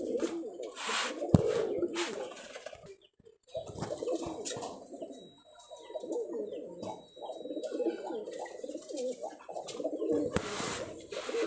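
Rajshahi highflyer pigeons coo softly and almost continuously in a low, rolling murmur, with a few faint chirps and one brief sharp knock.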